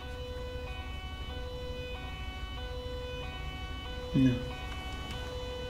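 An ambulance siren in the GTA 5 LSPDFR police game wails steadily at a distance under a car engine hum, while someone briefly speaks over it.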